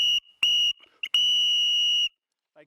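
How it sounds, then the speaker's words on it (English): A hurricane whistle blasts loud and shrill at a remote Nevada desert camp at night: two long piercing blows, a brief chirp between them, then silence with a faint sound at the end. "I took this hurricane whistle and I went"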